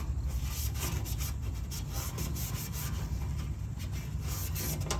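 Maroon Scotch-Brite pad scuffing the paint on a custom Ford F350 truck, with a continuous close rubbing hiss in quick back-and-forth strokes over a low background hum.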